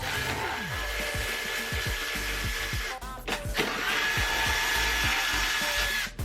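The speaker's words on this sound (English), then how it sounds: "we're gonna take a 14mm socket on an impact gun" Pneumatic impact gun with a 14mm socket removing strut bolts on a Subaru Crosstrek, a loud continuous whirring hammer rattle through most of the stretch, briefly dropping out around the middle before resuming strongly.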